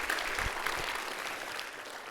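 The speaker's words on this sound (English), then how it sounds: "How about another round of applause for Dr." Applause from a lecture audience honouring Dr. John Szetu at a Fred Hollows Foundation event, steady dense clapping throughout at moderate level, without talk.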